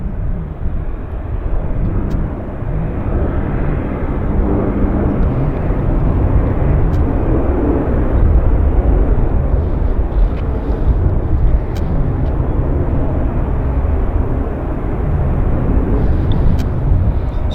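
A fixed-wing aircraft at Vancouver Airport, a steady broad engine roar heard from a distance with wind noise over the microphone, holding fairly constant throughout.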